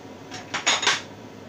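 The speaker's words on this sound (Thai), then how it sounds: "ใส่หน่อไม้ดอง" Pickled bamboo shoots tumble into a metal pot for a pork red curry, giving a short cluster of bright clattering, scraping impacts that lasts under a second.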